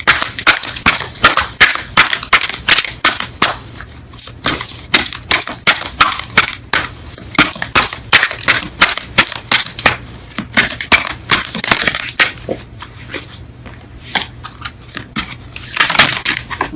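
Romance Angels tarot oracle cards are shuffled and pulled in rapid, crisp flapping clicks that run in bursts close up, with a brief exclamation near the start.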